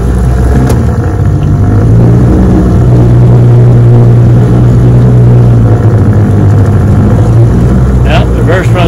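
A 1966 Johnson 9.5 HP outboard motor running in reverse, a loud, steady engine drone with a low hum that holds evenly for the whole stretch, close by and with no voices over it.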